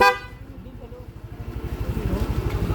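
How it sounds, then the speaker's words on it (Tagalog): A Yamaha NMAX V1 scooter's horn toots in a short burst at the start, followed by a rising pulsing motor-like drone; a voice speaks briefly. "Ang susunod ay yung busina."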